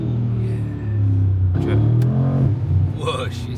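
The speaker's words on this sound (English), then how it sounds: "you have the sound controller at the back there, so you've got the crackles" A Mercedes G63 AMG V8 fitted with an Akrapovič titanium exhaust idles with a deep, steady rumble and a few sharp pops and crackles, heard up close. A voice talks over it near the end.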